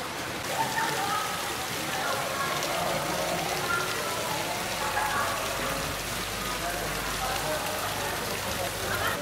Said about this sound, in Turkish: Yine yağmurlu bir havada Bali'de gezerken